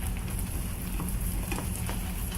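Food frying in a pan gives a steady, close hiss and crackle, with a few sharper pops and no talking.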